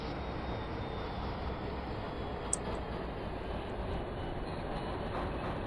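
A 5 subway train rumbles steadily as it arrives at East 180th station in the OpenBVE train simulator, a dense continuous rolling roar with a brief high squeal partway through.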